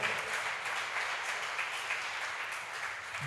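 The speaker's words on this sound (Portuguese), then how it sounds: "dê um aplauso e glorifique o nome do Senhor" A church congregation applauding during a service, continuous dense clapping heard at a moderate distance without any talk over it.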